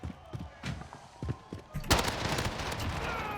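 Bursts of MP5 submachine gun fire in Call of Duty Modern Warfare, short rapid volleys followed by a louder, sustained stretch of shooting and impacts, close and punchy.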